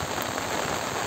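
Steady monsoon rain falling outdoors, a dense even hiss of drops with no pauses across the brief moment.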